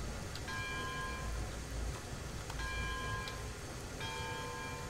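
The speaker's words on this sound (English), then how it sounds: "so the bell won't swing forward all the way, so it only does the single clap" A steam locomotive's bell in Railroads Online rings in repeated single clangs, about three strikes spaced over a few seconds, each leaving a ringing tone above a steady low rumble of the moving train.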